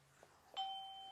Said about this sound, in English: First of all, let's ring the doorbell.